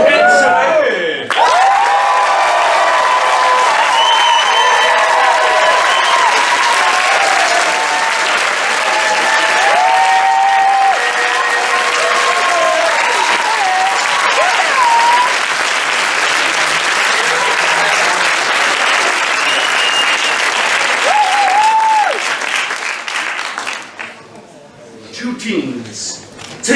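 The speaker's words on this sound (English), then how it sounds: "Let's give as good a round of applause to another team coming all the way from the Plateau de Saclay" Loud, sustained applause and cheering for the ENSAE team at a debate tournament final, with whoops and shouting voices over dense clapping that carries on for over twenty seconds before fading.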